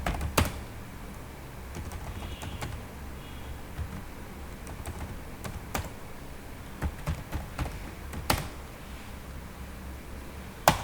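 CSS code being typed on a computer keyboard, with irregular keystrokes and occasional sharper taps spread across a quiet room and no talking.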